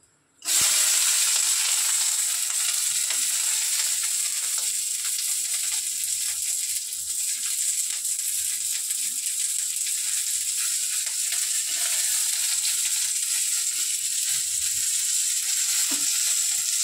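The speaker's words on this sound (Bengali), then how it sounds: "তো চলো একটু ভাজা ভাজা করে নিই" Whole green chillies and garlic dropped into hot oil, an abrupt start followed by a loud, steady, hissing sizzle that carries on evenly throughout, close up with no talk.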